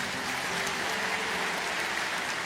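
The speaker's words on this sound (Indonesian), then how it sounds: "berikan tepuk tangan untuk dia" A congregation at a morning prayer service applauds, a continuous even patter of many hands clapping that sounds somewhat distant and soft, with no speech over it.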